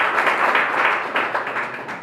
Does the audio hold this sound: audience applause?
yes